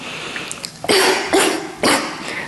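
Three loud, close coughs spaced about half a second apart, each a harsh burst, with faint breathy sounds between them and no talking.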